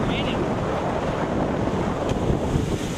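Strong storm winds gusting during a June storm in the USA, a dense continuous roar buffeting the microphone for the whole stretch, with steady rushing noise and no pauses.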